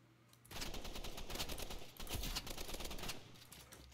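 Rapid automatic gunfire rattles out in a Roblox Rivals match, two dense bursts of quick shots separated by a brief pause, loud and unaccompanied by speech.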